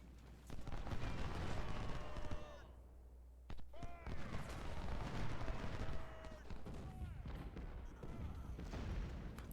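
Musket volleys crackle in the Ultimate General Civil War battle at a river crossing, dense rolling fusillades of overlapping shots with a brief lull midway, then heavy firing resuming, fairly faint overall.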